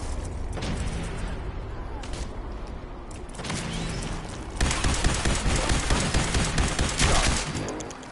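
Sustained volleys of gunfire in Fallout 4, close and loud, starting as dense crackling bursts and then swelling into heavier, thicker automatic fire during the second half, with no break between shots.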